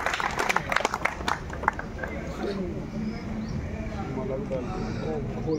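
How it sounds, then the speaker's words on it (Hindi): An audience at a political gathering claps, a burst of scattered, fairly close hand claps at first that thins into a dense, steady crowd murmur and rustle. "ताली मार दो यार"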